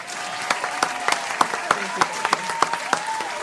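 Scattered, moderately loud claps from a small audience at a comedy show, with distinct individual hand claps standing out over a low murmur and some talking.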